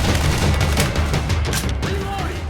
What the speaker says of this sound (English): Got him. Nice shot, Ace.